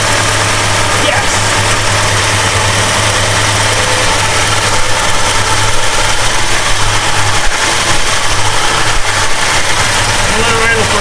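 A 1969 Plymouth Road Runner 440 V8, restarted after more than 20 years sitting, idles steadily with a deep, low rumble that holds constant throughout, close by, with some background talk mixed in.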